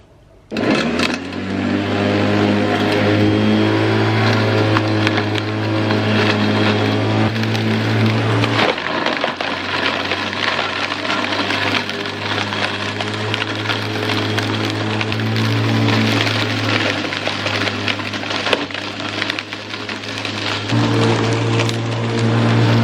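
A lawn mower runs loud and steady over a pile of dry sticks and leaves in a sunny garden, shredding them into homemade mulch, with a constant engine drone and brief dips in the load.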